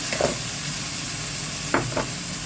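Minced pork stir-frying in a pan, heard as a steady sizzle with a few short scraping stirs, close by and with no talking.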